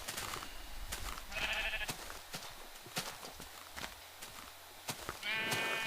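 Sheep bleating in Minecraft, two short wavering bleats over a background of soft clicks and footstep-like taps, moderately close.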